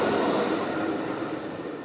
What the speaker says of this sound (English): Fucking train going by.